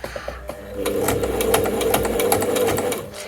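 A domestic sewing machine stitches a seam through fabric at stitch width 4, a fast steady mechanical whir with rapid needle clatter, starting after a few clicks and running continuously.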